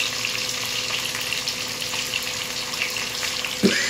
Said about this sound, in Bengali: তো আমরা এই তেলের মধ্যে এখন ছেড়ে দিচ্ছি কিছু রসুন কুচি